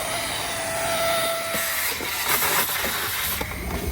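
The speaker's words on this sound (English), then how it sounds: "Check this out, the vacuum is free and it's always on." A free, always-on car wash vacuum runs continuously with a loud steady rushing hiss and a faint whine, alone without speech.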